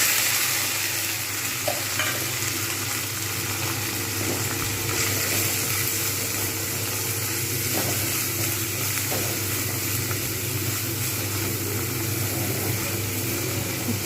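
Panch phoron and green chillies fry in oil for a bitter gourd and potato dish, a loud, steady sizzle with scattered crackles running throughout, no voices present.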